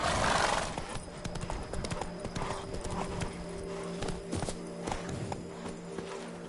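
Roach the horse trotting in The Witcher 3: Blood and Wine, a steady close clip-clop of hooves running through the whole stretch, with no talk over it.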